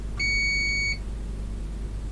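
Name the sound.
multimeter beeping while testing a diode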